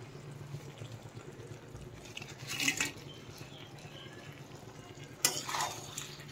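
Eggs fried earlier are stirred slowly into a cornflour-thickened chili gravy in a pan. Soft utensil scrapes and a faint sizzle sit under two brief, louder stirring strokes.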